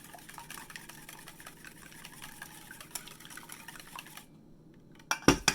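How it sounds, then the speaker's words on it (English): A fork beats eggs in a bowl while making bread pudding: steady, quiet, scratchy clinking and sloshing for about four seconds, then a short pause and a few louder clinks against the bowl. "Just beat your eggs up like so."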